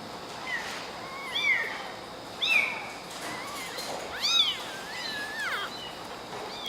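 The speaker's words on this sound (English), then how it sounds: "You can hear him getting angry because he's not latched." A transitional kitten meows angrily during bottle feeding when it fails to latch onto the nipple, giving several rising and falling cries of varying length. The cries are close and fairly loud over a steady low background hiss.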